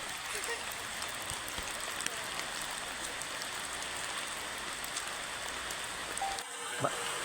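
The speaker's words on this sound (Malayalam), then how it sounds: "നല്ല മഴയാ" Heavy rain pours steadily during a mangosteen harvest, a dense, even hiss of drops on surfaces lasting throughout, with a few louder knocks near the end.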